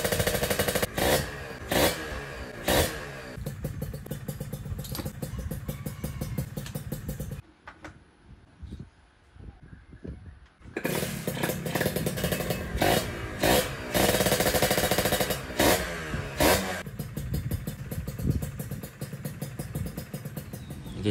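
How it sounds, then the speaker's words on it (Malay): A blue Kawasaki RR two-stroke motorcycle runs close by with a loud, buzzy, uneven idle and sharp revving clatter. It drops to near silence for a few seconds, then fires up again and idles on. "Sekejap lagi aku start motor ni"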